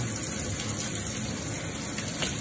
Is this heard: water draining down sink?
yes